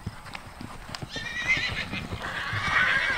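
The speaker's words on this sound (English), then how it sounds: "there are so many horses on this end" Hooves clip-clop on the ground as horses move nearby in a horse show ring, followed by a high whinny rising over the hoofbeats toward the end.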